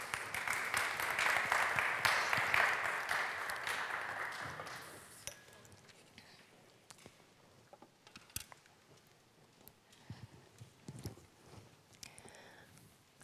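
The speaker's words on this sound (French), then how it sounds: "Vous pouvez les applaudir chaleureusement." A burst of audience applause, dense clapping for about five seconds that cuts off, followed by quiet room noise with scattered small clicks.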